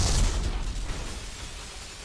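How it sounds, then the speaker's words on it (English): Explosions in the shooter video game Black: a loud blast at the start, then rumbling debris that slowly fades. "I love the details they put into the destruction, the explosions in this game."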